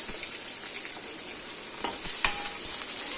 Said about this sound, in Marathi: तर आता कांदा हिरवी मिरची कढीपत्ता छान असं परतून घ्यायचं